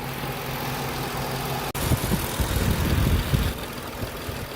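A Mitsubishi Endeavor engine cranks over during an AC recharge, then settles into a steady, rough mid-range idle with low rumbling pulses, heard close and alone.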